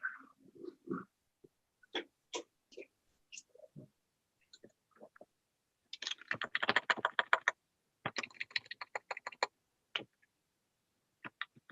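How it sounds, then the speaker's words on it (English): Typing on a computer keyboard comes through an online council meeting, with scattered keystrokes, then fast bursts of clicking in short runs separated by silences, near and clear. "We can hear you typing."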